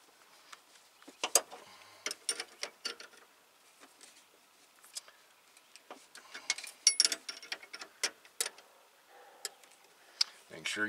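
Metal wrench clicks and ratchets while a brake line nut is tightened on a 1993 Jeep Cherokee, giving quick, close, irregular ticks and taps with quiet gaps between them.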